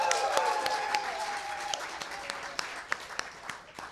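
An audience at a book launch applauds and cheers with dense, sustained clapping that gradually thins into scattered individual claps, with a few voices mixed in.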